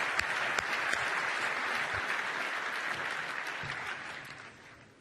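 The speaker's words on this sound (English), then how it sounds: "they deserve a warm round of applause" A large audience at the FIFA Ballon d'Or ceremony applauds warmly, a dense steady clapping that stays loud and then gradually fades toward the end.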